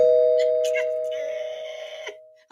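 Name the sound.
doorbell ringing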